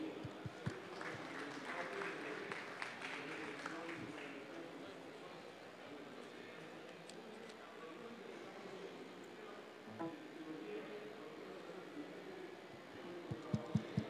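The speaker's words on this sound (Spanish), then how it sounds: "vamos con un aplauso" An audience at a business pitch marathon breaks into applause, a dense wash of clapping that builds early and then thins into a steady background patter.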